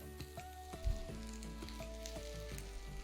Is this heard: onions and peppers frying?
yes